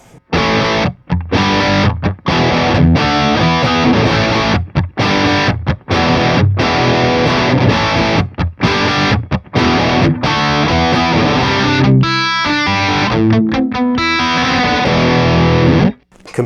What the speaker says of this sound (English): So channel 1, if I put it on crunch mode, sounds like this